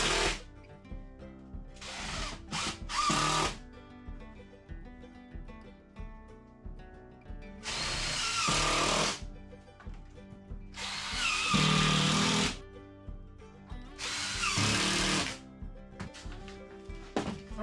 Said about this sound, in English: So I'm going to put screws in it